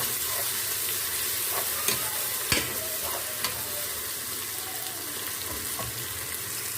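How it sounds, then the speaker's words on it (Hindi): Onions sizzle steadily in a pan as garlic ginger paste is stirred in for a village-style mixed saag, with a constant frying hiss and occasional scraping clinks of the spoon against the pot. "प्याज फ्राई हो गया, अब इसमें हम लहसुन अदरक का पेस्ट डालेंगे और इसको हम अच्छे से मिक्स कर लेंगे।"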